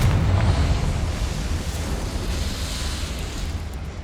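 A Confringo blasting-curse explosion in the Hogwarts Legacy video game on PS5: a loud, deep roaring burst that rumbles and slowly fades over several seconds, with no voices over it.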